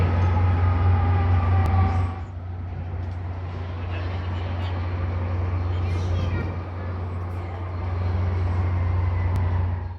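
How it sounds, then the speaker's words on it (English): A Metra Rock Island train at LaSalle station in Chicago, its steady low engine drone and rumble filling the platform, easing slightly after a couple of seconds and then holding close and continuous. "I am ready to board a Metro Rock Island train to go south"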